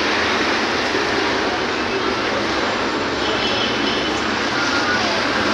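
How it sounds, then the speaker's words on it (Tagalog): Constant rumbling roar of an LRT light rail car in motion in Manila, heard from inside, with a faint metallic squeal and steady rolling noise throughout. "sakay kami ng LRT papuntang El Puyat."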